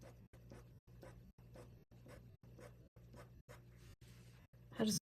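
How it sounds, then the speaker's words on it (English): A marker drags across paper while a Celtic spiral is sketched, making soft, repeated rhythmic strokes with short pauses between them, close and quiet, ending with a brief louder scrape. "listen to the sound of the marker on paper"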